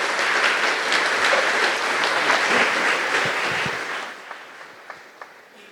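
Dense audience applause at the consecration festival of a new St. Mother Teresa church in Bachupally, Hyderabad, loud and sustained, then thinning out to a few scattered claps near the end.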